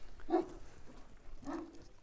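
Large Kangal shepherd dogs in Sivas give two short, fairly distant barks about a second apart, quiet against soft outdoor background noise.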